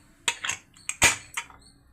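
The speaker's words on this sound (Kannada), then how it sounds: "ಈಗ ಕುಕ್ಕರ್ ವಿಷಲ್ ಹಾಕ್ತಿದ್ದೀನಿ." A metal pressure cooker whistle is set onto the lid: a handful of sharp metallic clinks and taps over about a second, close and fairly quiet, no voices.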